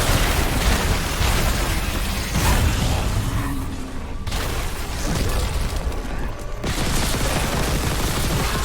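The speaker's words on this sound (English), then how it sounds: "So we're shooting the exposed weak points" Gunfire in Dead Space Remastered, dense loud bursts of shots and blasts with mechanical clatter, near-continuous over a heavy rumbling backdrop with a couple of short lulls.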